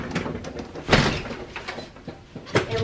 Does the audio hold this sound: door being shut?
yes